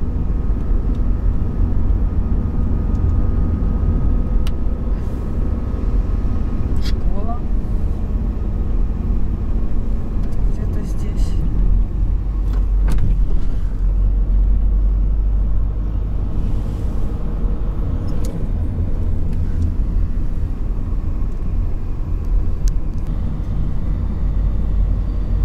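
A car drives along Komsomolskaya Street in the town of Krichev, Belarus, with a steady loud engine and road rumble from inside the cabin, tyre noise and occasional faint knocks and passing traffic sounds over a continuous drone.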